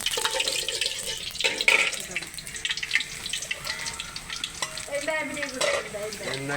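Mustard oil heating in a pan makes a crackling sizzle and spitting hiss, close by, with people's voices talking over it and a few clinks in between.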